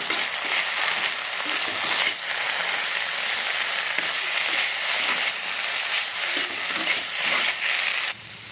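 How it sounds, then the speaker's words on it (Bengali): Drumstick leaves rustle and scrape in a hot dry pan without oil, a loud, crackly sizzle, stirred in a steady rhythm, quieter at the very end. "সজনে পাতাটা এখন আমি তেল ছাড়াই ভেজে নিচ্ছি"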